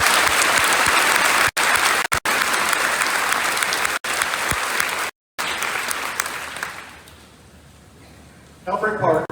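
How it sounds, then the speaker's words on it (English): Loud, sustained applause from an audience at an eighth grade student recognition ceremony, fading out after several seconds before a brief burst returns at the end. "Let's give all these students a round of applause."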